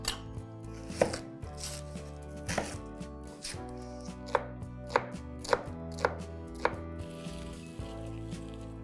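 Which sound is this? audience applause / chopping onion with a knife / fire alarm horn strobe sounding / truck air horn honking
chopping onion with a knife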